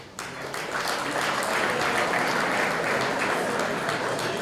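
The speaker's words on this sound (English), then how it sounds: "That's okay, we're Armenian, we applaud." Guests at an Armenian medical society's 30th anniversary gala break into sustained applause, a thick, loud, continuous roar of clapping that swells quickly and holds steady throughout.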